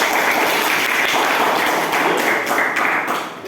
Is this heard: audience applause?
yes